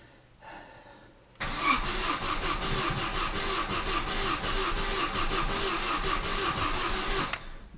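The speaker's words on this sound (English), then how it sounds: "Turns over and it don't start, which is not really a surprise." A 2004 Vauxhall Corsa C cranks without starting: after a faint click, the starter whirs loudly and steadily in a rhythmic churn for about six seconds, then cuts off, with no engine catching.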